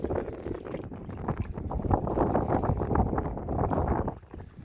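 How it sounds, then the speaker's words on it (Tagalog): Strong wind at sea roars steadily into the microphone, with turbulent gusting noise and faint knocks, no voices. "Lakas ng hangin."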